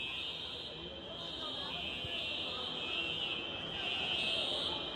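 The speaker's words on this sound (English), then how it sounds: "There's a fire alarm!" A fire alarm in a Las Vegas store sounds as a steady high electronic tone that runs unbroken through the whole stretch, moderately loud in a busy room, with people talking underneath.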